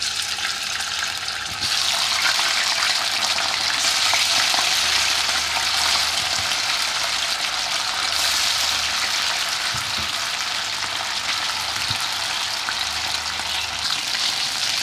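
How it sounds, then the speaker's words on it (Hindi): Chicken pieces frying in hot oil in a pan over high heat, a steady loud sizzle and crackle that swells after the first moments and keeps going, with faint stirring knocks underneath. "इसमें हम अपनी चिकन फ्राई करेंगे थोड़ी थोड़ी डाल के"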